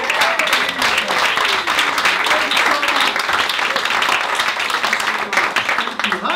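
A crowd at the New York Comedy Club gives a comedian loud, sustained applause, a thick unbroken wash of clapping with cheers mixed in, steady for the whole stretch.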